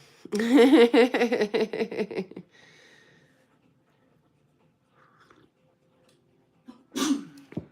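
A short, sharp burst right near the end, after a stretch of dog-like yelps and a quiet pause, sounds like a single sneeze.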